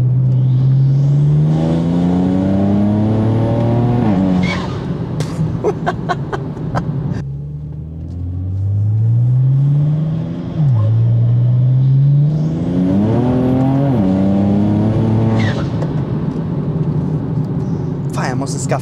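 BMW 335i engine revving hard through the gears with a manual downshift to third, loud rising engine tones that climb, drop and climb again, with sharp exhaust crackles between pulls.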